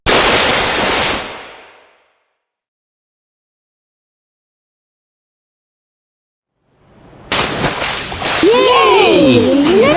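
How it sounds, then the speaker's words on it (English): At a water park, a loud rushing splash of water cuts off into silence, then another surge of splashing water returns with excited voices and squeals over it. "Very big splash!"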